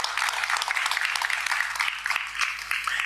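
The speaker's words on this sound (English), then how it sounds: "Indonesia. A round of applause." An audience at a World Food Forum youth event claps for the launch of the Indonesia national chapter, a moderately loud ripple of many hands applauding continuously for a few seconds.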